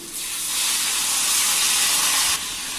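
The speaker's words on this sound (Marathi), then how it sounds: "थोडंसं पाणी टाकून घेऊया म्हणजे मसाला जळणार नाही" Water poured onto frying masala for masoor bhaji gives a loud, steady hissing sizzle that starts abruptly, holds for about two seconds, then cuts off sharply.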